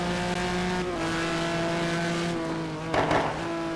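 GT1 race cars roar around Road Atlanta, with sustained engine notes holding steady and shifting pitch as they run through the esses, plus a brief louder burst near the end, no voices.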